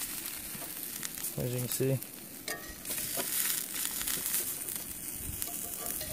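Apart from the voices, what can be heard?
folded pizza with sauce, cheese, pepperoni sizzling in pan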